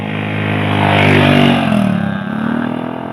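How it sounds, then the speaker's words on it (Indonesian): A motorcycle engine passes close by, its revving rising to a peak and then dropping in pitch as it moves away, loud and with no talking. "Bentar, ada motor."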